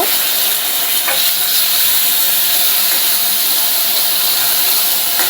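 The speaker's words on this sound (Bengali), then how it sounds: "আমি একটু আদা কাঁচা লঙ্কার পেস্ট দিয়ে দিলাম, একদম সামান্য পেস্ট দিয়ে ওটাকে একটু কষিয়ে নেব" Ginger and green chili paste sizzles in a pan with bay leaf, a steady close hiss of frying that runs without pause, with a couple of faint clicks from stirring.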